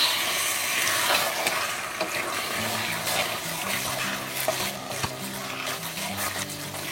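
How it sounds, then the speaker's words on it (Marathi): Salted pork being tipped into a pan of fried masala for Goan pork vindaloo and stirred, producing a steady, close sizzle with occasional stirring clinks throughout. "आतां हांव घालता हे आमचे मीठ लावन दवरलेले मांस. आमी आतां मिक्स करूया."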